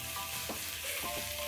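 Crushed garlic and ginger fry with onions in a pan, a continuous close sizzle broken by a few scraping stirs, with faint tonal background music underneath.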